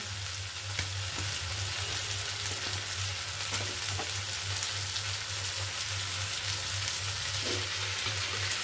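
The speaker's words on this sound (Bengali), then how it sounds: "ডাঁটাটা আমি এর মধ্যে দিয়ে কষে নেব" Vegetable stalks being stirred and fried in spice paste in a pan, a steady dense sizzle with occasional stirring scrapes over a low constant hum.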